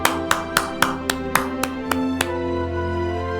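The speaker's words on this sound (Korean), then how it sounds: "우리 하나님께 영광 박수 올려드리겠습니다." A church congregation gives nine sharp claps in a steady, even beat over sustained organ-like chords. Then the clapping stops and the tones ring on alone.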